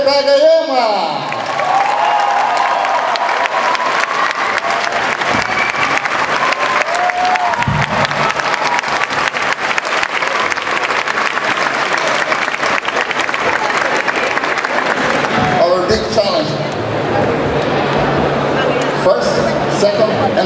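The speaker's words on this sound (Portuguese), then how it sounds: "Vamos receber com uma salva de palmas a voz da série do Dragon Ball" A convention crowd at Iberanime Lisbon 2014 breaks into sustained, loud applause for a Dragon Ball voice actor taking the stage, with cheering and shouts mixed in, dense and continuous throughout, easing slightly near the end.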